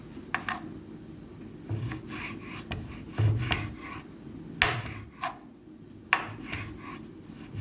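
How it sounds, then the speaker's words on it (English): A knife cuts thin garnish slices on a board with soft, irregular rasping strokes and light taps spread across the clip, quiet and close with no talk. "Here I'm showing you how the thin slices that I'm making for my garnish"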